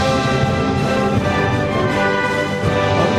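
Taiwan's National Banner Song played as a recorded anthem: a full, continuous orchestral sound with sustained harmonies and no pauses, loud and steady throughout.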